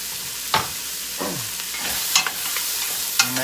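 Onions frying in a pan at home, a steady soft sizzle with a spoon or spatula scraping and stirring several times, close by and fairly quiet, with no talking.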